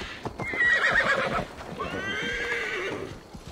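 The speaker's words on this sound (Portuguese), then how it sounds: "Na verdade, a gente tem que pegar o cavalo." A horse in the video game Assassin's Creed Valhalla gives a loud, drawn-out whinny, then a second quavering neigh, with hoof clops in the background.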